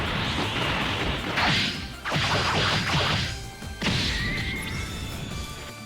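A burst of Dragon Ball Sparking Zero super attack effects: crashing impacts, whooshing swipes and heavy thwacks layered over a dense rumbling roar.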